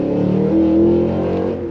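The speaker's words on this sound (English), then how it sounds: "Pin the throttle, you got the launch control, release on throttle." Full-throttle launch-control acceleration in a Cadillac Escalade V, a steady loud engine roar heard from inside the cabin, briefly swelling as it pulls hard.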